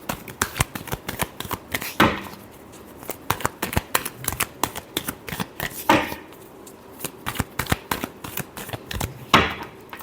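A deck of tarot cards is shuffled near the microphone in rapid riffling bursts with sharp slaps between them, repeating in a quick, uneven rhythm.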